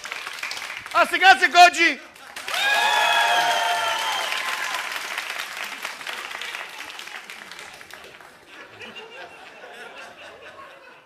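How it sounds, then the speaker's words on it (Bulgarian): Studio audience applause for Mr. Trifonov on a Bulgarian television talk show, breaking out loudly after a brief spoken line and holding as a steady wash of many hands before fading, with voices and chatter over it. "Аплодисменти за господин Трифонов"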